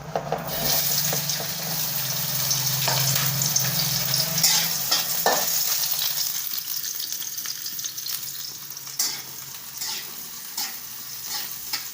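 Onion frying in oil in a pan, with a steady sizzle under frequent scraping and clinking from stirring, close and continuous.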